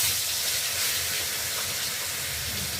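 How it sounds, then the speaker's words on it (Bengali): Fish steaks slid one by one into hot oil give off a steady, even hiss of frying, close and continuous with no voices. "এই যে মাছগুলো একে একে দিয়ে ভেজে নেব"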